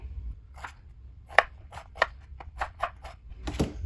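Vegetable pieces are cut with a knife, a close run of about eight crisp, evenly spaced chops against a board, with quiet pauses between the cuts.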